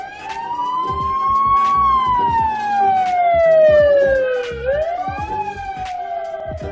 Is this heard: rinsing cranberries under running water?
no